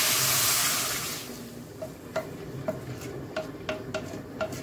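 Rice sizzles as it toasts in a pan, a loud hiss fading after a second, then light rhythmic scrapes and taps of a utensil stirring.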